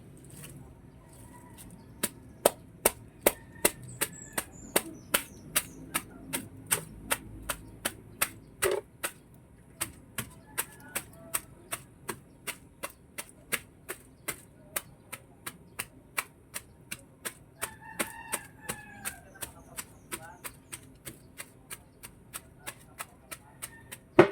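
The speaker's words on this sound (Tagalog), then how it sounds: "gagamitin na lang natin martilyo" Repeated sharp hammer blows crush garlic in a bag at a steady rhythm, dozens of hits in a row, close and crisp against a quiet background.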